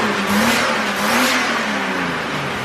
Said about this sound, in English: It actually doesn't sound that bad when you rev it.